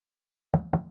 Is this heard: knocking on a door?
yes